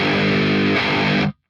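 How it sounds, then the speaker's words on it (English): Heavily distorted electric guitar through a Mesa Dual Rectifier amp, a thick sustained chord ringing loud and alone for over a second before stopping dead. "I want to see if I can bring back actual amp distortion that isn't muddy"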